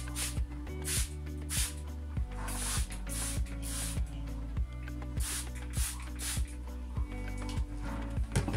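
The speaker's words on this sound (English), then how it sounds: "It's time for all of my other plants to get sprayed with fairy that is over there" Hand spray bottle misting houseplants with a Fairy dish soap solution against thrips and mealybugs, a steady series of soft, breathy pumped spritzes repeating at a regular pace over a low background hum.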